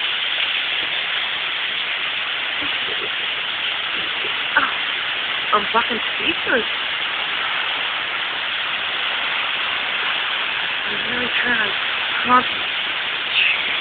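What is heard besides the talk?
heavy pouring rain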